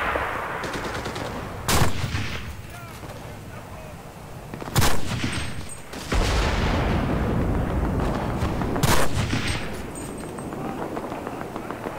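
Gunfire in the World War II shooter game Enlisted: a heavy, continuous battle din with sharp loud shots cracking out every few seconds over rumbling background fire.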